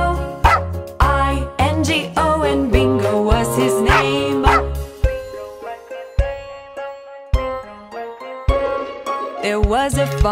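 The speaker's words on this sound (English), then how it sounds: "There was a farmer had a dog and Bingo was his name" Cartoon-style dog barks punctuate a bouncy nursery rhyme about a farmer's dog named Bingo, landing in short repeated bursts over the sung melody and steady backing beat.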